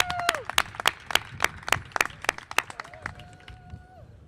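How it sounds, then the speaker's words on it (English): Scattered, light clapping from a small outdoor crowd at the launch of a bike share station, sharp individual claps coming in an uneven patter rather than a dense roar, with a faint tone drifting in the background. "So can we get a round of applause for that?"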